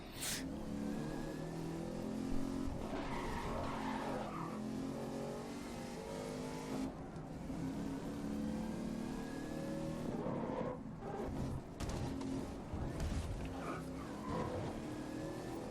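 Race car engines roar continuously in the racing game GRID, steady revving with shifting pitch and occasional tire noise, loud and close with no voices.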